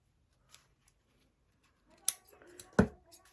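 Scissors snip paper for a junk journal in a quiet room, with a faint click early on, then two sharp close cuts and a few softer rustles near the end.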